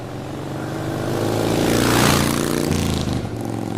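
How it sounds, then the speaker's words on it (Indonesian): A motorcycle engine rides along a road at night, a droning hum that swells to a peak as it passes close by and then eases slightly while still running steadily. "Ia sudah ada di jalan dengan motor kebanggaannya."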